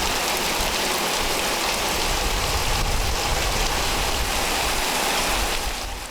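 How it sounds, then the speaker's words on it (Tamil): Heavy rain pours steadily in Attur, Tamil Nadu, a dense loud hiss of drops on surfaces that holds constant and eases slightly at the end; no thunder stands out. "இடி மின்னலுடன் கனமழை வெளுத்து வாங்கியதால் குளிர்ச்சியான சூழல் உருவானது"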